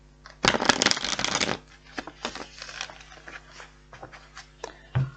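A loud burst of tarot cards being riffled and shuffled, followed by softer scattered taps and flicks of cards being handled close by.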